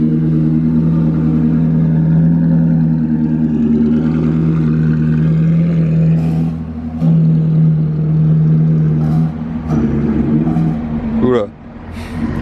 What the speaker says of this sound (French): Fait du bruit cette California.